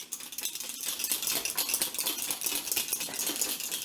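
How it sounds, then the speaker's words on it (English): Rapid, continuous rattling as a closed shaker bottle of milk with a loose ball inside is shaken hard nearby for several seconds. "you're going to give it a pretty good shake"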